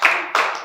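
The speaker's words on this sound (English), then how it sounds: "Clap everyone." A short burst of classroom clapping as students applaud two volunteers, two quick swells of hand claps close by with no talk over them.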